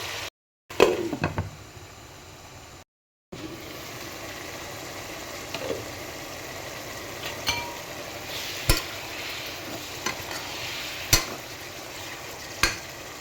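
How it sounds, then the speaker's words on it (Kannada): Mushroom biryani masala mixture boils in a pot at close range, giving a steady low bubbling and simmering hiss with a few sharp clicks scattered through it. Two short dropouts interrupt the sound near the start. "ಇದೊಂದು 2 ಮಿನಿಟ್ಸ್ ಇದು ಸ್ವಲ್ಪ ಹೊತ್ತು ಬಾಯ್ಲ್ ಆಗಲಿ"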